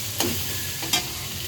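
Pasta being stirred and fried in a pan with Maggi seasoning and pasta masala, a steady low sizzle broken by two brief scraping stirs, close and alone with no talk.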